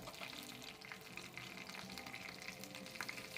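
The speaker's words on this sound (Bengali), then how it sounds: "আমি একটু তড়কা দেবো তা দিলাম সরিষার তেল তারপরে সরিষা দিলাম হাফ চামচ কারি পাতা" Mustard seeds and curry leaves tempering in hot mustard oil make a faint, continuous spitting sizzle scattered with small crackles and pops.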